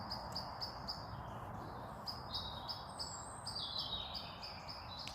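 A blackbird calls from a tree beside a campsite, repeated sharp high chinks and chirps in quick runs, clear over a soft steady outdoor background.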